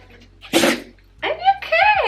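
One loud, sharp sneeze bursts out close by outdoors, followed by voices talking right after.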